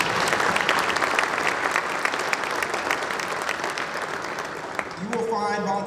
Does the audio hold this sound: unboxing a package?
no